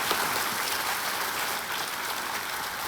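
Studio audience at a KBC game show breaking into dense, sustained applause, a loud, even wash of many hands clapping at once with no talk over it.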